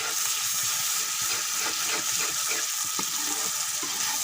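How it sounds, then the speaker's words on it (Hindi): Spices frying with a splash of water in a pan for beef keema dal, a steady dense sizzle with scattered clicks of stirring throughout, close and even. "थोड़ा सा पानी डालकर शामिल कर देंगे और अच्छी तरह मसाले को फ्राई करेंगे।"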